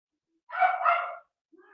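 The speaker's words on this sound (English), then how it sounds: "dog out in the hall, if you can hear it." A single dog bark from out in a hall, a sharp half-second woof followed by a fainter short sound, with silence around it and no talking.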